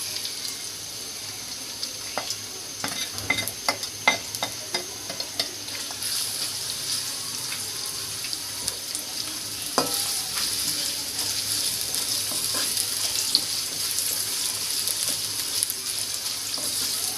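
Onions frying in hot oil for biryani masala, a steady hiss with scattered small crackles and occasional spoon clicks, moderately loud and without speech.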